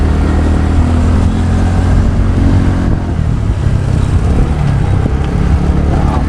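Road traffic heard from a scooter in Andheri, with a loud, continuous engine drone and cars and motorcycles rumbling close by, rising and falling slightly.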